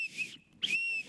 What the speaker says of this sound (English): I think that's the whistle from that club we were in the other night.